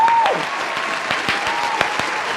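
A small group applauds with scattered, distinct claps spaced irregularly, following a brief rising-then-falling whoop at the start, fairly close and loud.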